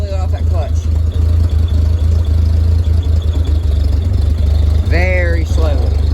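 A 1946 Ford 2N tractor engine chugs steadily and loud as the clutch is eased out, its low rhythmic idle continuous throughout, with a brief squeal-like tone near the end.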